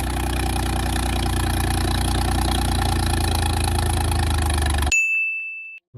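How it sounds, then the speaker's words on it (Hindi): A tractor engine runs at a steady, throbbing idle for about five seconds, then cuts off abruptly, leaving a short high ding ringing in near silence. "नंबर 3 पर निशु भाई का ट्रैक्टर"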